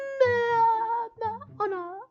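A cat in the video game Minecraft gives three clear, close meows in quick succession, the first long and drawn out and the last two shorter with a rising-falling tone.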